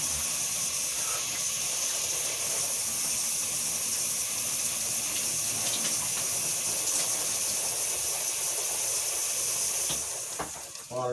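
Shower water runs in a continuous loud hiss and spray that holds for about ten seconds before cutting off near the end, with someone speaking faintly underneath.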